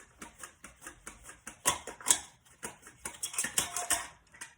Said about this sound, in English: we are going to go ahead and slice these up with our little handy-dandy slicer